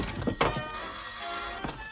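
An old-fashioned telephone bell rings in a 1936 comedy film, a short bright burst of ringing standing alone with no talk over it.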